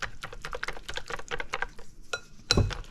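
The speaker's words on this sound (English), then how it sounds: "Whisk it to combine." Pumpkin scone batter whisked in a bowl, a rapid steady run of close clicking strokes against the bowl, a brief pause, then a few more strokes and a louder knock.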